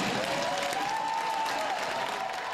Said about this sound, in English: With cheers and roaring applause, Yvonne Spicer made history twice in Framingham.